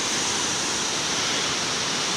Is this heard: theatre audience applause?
no